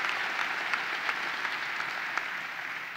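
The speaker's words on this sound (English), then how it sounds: "Give him a round of applause." Clapping fills the room at the New York State Fair expo center opening, a brief, moderately loud stretch of audience applause with a few sharper claps standing out over the steady patter.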